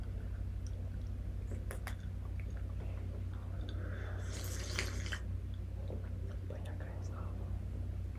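Water in a drinking glass swishes and drips softly up close in an ASMR style, with a brief fuller slosh midway over a low steady hum and quiet whispering.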